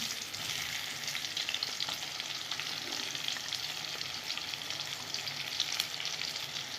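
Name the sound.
frying onions for fish curry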